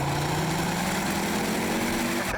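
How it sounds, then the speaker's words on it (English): Engine of a Ford RS hot hatch running steadily, a loud continuous low droning note with a faint rising tone, held close for a couple of seconds before cutting off. "One of my favourite parts of this car is the sound of the engine."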